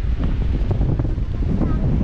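Strong wind buffets a microphone outdoors on a cold hillside among pine trees, a steady roaring rumble with gusty surges filling the whole stretch.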